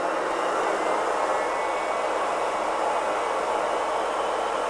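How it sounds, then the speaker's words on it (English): A nail dust vacuum collector runs close by with a steady, loud airy whoosh that stays constant throughout and has no other sounds over it. "I'm going to turn on my dust vacuum so you guys can see me do that."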